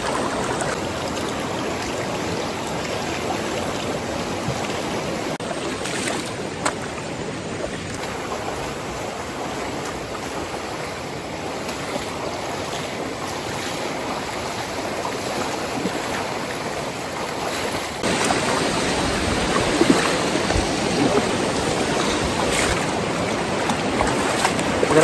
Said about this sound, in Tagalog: kailangan naman natin tawirin itong ilog